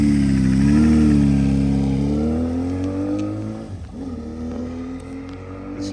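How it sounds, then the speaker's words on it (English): A 1983 Suzuki XN85 Turbo motorcycle engine runs close by, a loud, steady idle that briefly dips before settling again. "We're going to start up this Suzuki XN85 Turbo."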